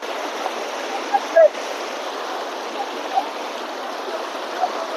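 A cold river stream at Bholaganj Sada Pathor flows over stones in a steady, broad rushing wash, with faint scattered voices and a couple of brief splashes or knocks nearby.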